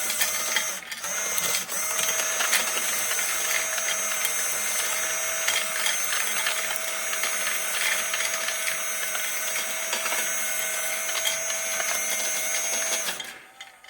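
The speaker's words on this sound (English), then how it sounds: "You can really see, if I move it slowly, how this coal is pushed with the wheel here to the center" A G gauge radio-controlled coal tower runs its wheel mechanism, shoving coal along with a continuous whirring, ratcheting mechanical buzz and faint gritty scraping, close and steady throughout before stopping at the end.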